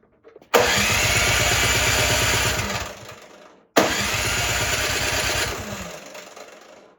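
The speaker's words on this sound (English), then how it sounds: "Yep, it won't start" A Cub Cadet snowblower's small engine on full choke cranks loudly in two long bursts of rhythmic chugging, each lasting about three seconds and winding down without catching, with a short silence between them.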